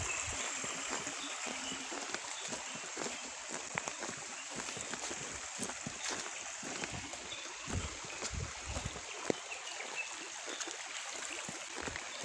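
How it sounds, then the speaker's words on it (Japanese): The Yamada River, a stream in the Muko River system near Yamada Dam, flows with a faint, steady trickling and rushing of water. The sound is distant and soft, with light scattered ticks and no talk. "あちらの方から水流れてきてますね"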